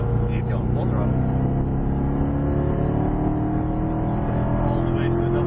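Chevrolet Corvette C7 accelerating at full throttle on a race track, a loud, steady engine roar with strong low harmonics held throughout, with an instructor's voice talking over it.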